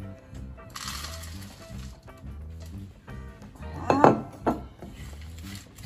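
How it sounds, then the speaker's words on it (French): Almonds being stirred and toasted in a pan over low heat, light rattling and clinking of nuts and utensil against the pan, with a few louder scrapes near the end and a voice talking throughout. "on a mis la poêle à feu doux et on ajoute les amandes pour les faire dorer"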